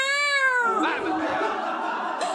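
A voice imitates a cat, giving a drawn-out, wavering meow that starts high and slides down before breaking into a rougher, strained yowl, loud and close in a comedy sketch.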